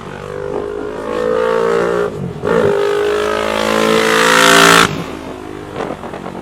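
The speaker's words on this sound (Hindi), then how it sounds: "OMC मॉडल वाली RR 310 में फ्री फ्लो एग्जॉस्ट मिलता है, जिसकी पावरफुल आवाज़ आपको एक्साइटमेंट के एक नए लेवल पर ले जाएगी" A TVS Apache RR 310 OMC race bike with a free-flow exhaust revs hard, its loud engine note climbing, dropping briefly, then surging again to a high peak before cutting off, close and alone.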